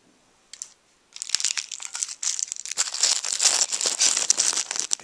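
A plastic bag holding fishing line, hooks and sinkers from an emergency EDC kit crinkles and rustles as it is handled, with a couple of faint early crackles, then dense, close crumpling.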